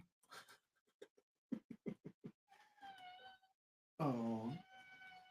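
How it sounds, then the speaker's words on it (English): A house cat meows repeatedly indoors during a live stream: short clipped cries, a drawn-out mew around the middle and a louder, longer meow near the end, with quiet gaps between. "if y'all hear the cat, that's my Goose"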